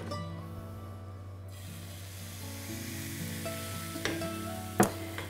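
Pancake batter sizzling steadily in hot fat in a frying pan, a close, continuous crackle with a few small clinks near the end and no talking.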